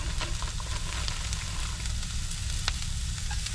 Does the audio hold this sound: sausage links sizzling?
yes